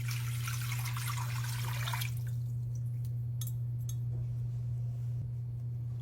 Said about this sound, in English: we're going to go to our pot, our stock pot, and we're going to add 4 cups of water